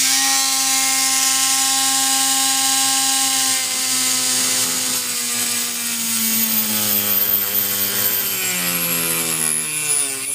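A power tool cutting into material, a loud continuous whine whose pitch slides downward as it bears into the workpiece, with a rough grinding rasp throughout and no talk.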